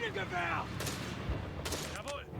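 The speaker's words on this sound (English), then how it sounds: "Machine gun nest up there." Machine gun nest fire in the Company of Heroes 3 battle, sharp clustered shots rattling in short bursts amid other battle noise, with a commentator's voice running over it.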